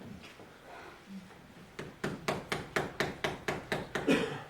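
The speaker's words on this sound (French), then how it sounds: "Quelqu'un frappe dans la tombe?" About ten loud, evenly spaced knocks thud in a steady rhythm from inside a tomb in a stage show, preceded by quiet rustling, with no voices.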